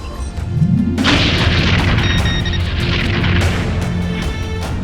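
Starship disruptor weapons firing in a Star Trek fan production, a loud booming energy blast that swells in and holds as a dense rumbling roar, steady and close with no voices.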